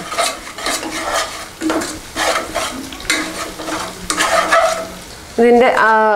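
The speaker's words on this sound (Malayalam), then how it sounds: "ഇട്ട ശേഷം ഒന്ന് നന്നായി ഇളക്കി കൊടുക്കുക." A spoon scrapes and stirs through chicken biryani masala with coriander and mint in a pressure cooker, repeated rhythmic scraping strokes with a faint sizzle, then a brief squeaky utensil sound at the end.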